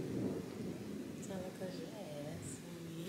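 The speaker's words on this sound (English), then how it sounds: "Because you heard the thunder." Low rolling thunder rumbles in the distance near the start, faint and fading beneath people talking.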